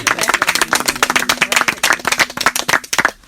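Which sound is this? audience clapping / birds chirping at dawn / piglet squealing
audience clapping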